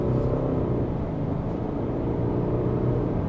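The turbocharged engine of a 2025 Subaru Outback Touring XT at partial throttle gives a low, steady rumble from inside the cabin, with even road and drivetrain hum and no voices.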